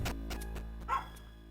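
A dog barks a few times in quick succession close by, short sharp yips with a whimpering edge, with no talk over it.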